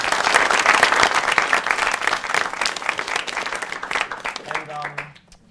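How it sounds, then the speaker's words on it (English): A studio audience applauds loudly and steadily for several seconds on a TV talk show, the clapping fading out at the end as a voice briefly begins. "Let's give a round of applause."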